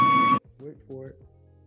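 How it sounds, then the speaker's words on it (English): A smoke detector gives a single loud, sharp low-battery beep up close, then stops, followed by someone talking. "Maybe I have to replace my fire smoke detector."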